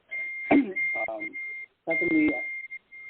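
A phone beeps with incoming messages, giving repeated high, steady tones that ring out while a person speaks nearby.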